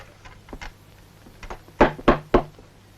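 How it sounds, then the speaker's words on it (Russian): Three loud, hard knocks on a wooden door in an old Soviet film scene, preceded by a few fainter taps, with a low hum underneath and no talking. "Кто-то стучит."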